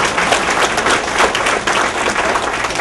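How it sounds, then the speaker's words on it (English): Audience applause at a political speech in Fairfax County, a dense, loud burst of clapping from a crowd, continuous throughout with no voices on top. "Please give him a round of applause."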